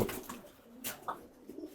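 Pigeons kept in a loft coo in short, soft murmuring calls, a couple of brief rounds heard close by with no talking.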